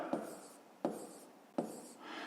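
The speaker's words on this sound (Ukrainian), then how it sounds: "Записуємо в дужках чого літрів. Так, пишемо." A pen writing by hand on paper in three quick strokes, each a short close scratch that tails off, evenly spaced and alone.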